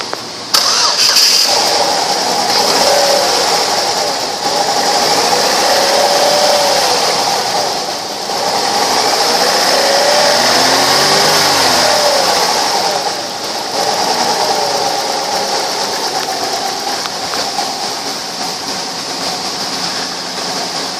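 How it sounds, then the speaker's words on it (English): A 2006 Chevrolet Cobalt engine with 9,650 miles cranks and catches, then runs at a loud, steady idle close by, with a faint whine riding over the hum and slight dips in level throughout. "2006 Chevy Cobalt, mileage 9650, engine run video."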